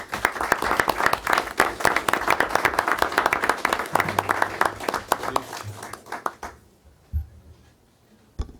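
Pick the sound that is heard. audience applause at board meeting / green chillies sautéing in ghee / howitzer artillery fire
audience applause at board meeting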